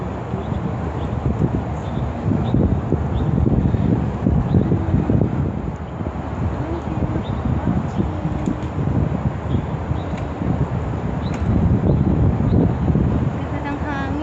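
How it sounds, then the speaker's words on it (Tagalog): Steady sea wind by the shore at North Point, Hong Kong, buffeting the microphone, a continuous low rumble and rush with no voices, constant and close throughout. "Ganda ng hangin, oh, kasi nasa tabi kami ng dagat."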